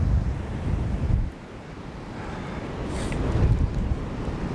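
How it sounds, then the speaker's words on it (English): Rough ocean surf rolls in at Padre Island beach under strong, gusting wind that buffets the microphone, a continuous loud roar of breaking waves and wind with no voices. "The surf is so rough, as far as the eye can see is nothing but sets of waves"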